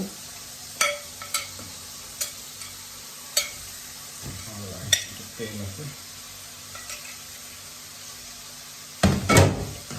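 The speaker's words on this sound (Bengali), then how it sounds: "এখন এটাকে আবার হালকা একটু ভাজি করে নিচ্ছি যাতে পুরা মশলাটার সাথে কোয়েলটা মিশে যায়" Quail fries in masala in a pan, a low sizzle under sharp intermittent scrapes and knocks of a spoon stirring, ending in a louder clatter near the close; close, with no clear talk.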